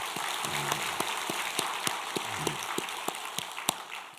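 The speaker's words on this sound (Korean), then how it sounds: "다시 한번 뜨거운 박수를 부탁합니다." Church congregation applauding the choir at a New Year's Eve blessing prayer service: a steady, hissing wash of many hands clapping, with a few sharper individual claps standing out from the crowd noise.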